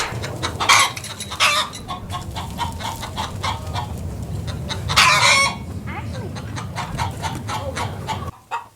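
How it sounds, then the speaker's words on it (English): Around 21 hens and roosters at morning feeding on a wooded Texas homestead, clucking and squawking in repeated close bursts, with louder flurries of excited calls in between. "21마리의 닭을 돌보는 건 말레나의 중요한 아침 일과입니다"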